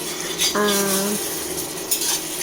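Utensil scraping and clinking inside a pot of thick taro root and katla fish curry, with a sustained metallic ring midway through and soft sizzling beneath; one short spoon-against-metal stroke near, with no speech.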